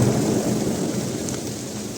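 Heavy thunder rumbles loudly and continuously outside during monsoon rain in Mumbai, blended with the dense hiss of rainfall.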